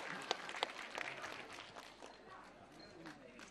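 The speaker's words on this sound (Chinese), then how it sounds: "来掌声欢迎一下妈妈" Brief applause from a studio audience welcoming a guest's mother, a short burst of scattered clapping with a few sharp claps at the start, fading under voices.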